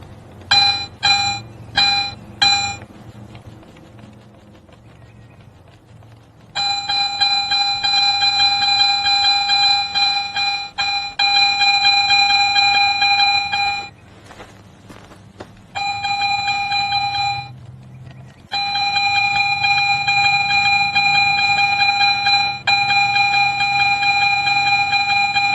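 A Garrett metal detector emits repeated electronic tones, starting with a few quick beeps and then long sustained pitched tones that cut off and resume several times as the coil sweeps back and forth over a target, loud and close.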